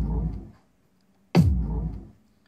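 A hip-hop kick drum played alone, two deep booming hits with a long low tail, separated by a short silent gap.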